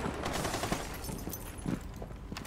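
Gunfire from a weapon in Rainbow Six Siege, a dense, steady rattle of rapid shots with a few sharper cracks standing out, loud and continuous with no voices.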